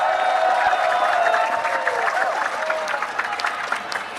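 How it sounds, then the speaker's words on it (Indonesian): An audience applauds for Rocky Gerung at a book discussion event, a dense burst of clapping with some crowd murmur that gradually thins toward the end. "Tepuk tangan sekali lagi untuk Rocky Gerung."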